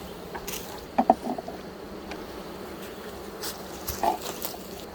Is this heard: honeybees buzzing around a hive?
yes